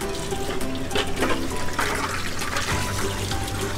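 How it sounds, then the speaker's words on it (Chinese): Eggs are washed under a running tap, giving a steady trickle and splash of water close by, with small knocks as they are handled. "然后首先啊，我们要先将鸡蛋啊洗一洗。"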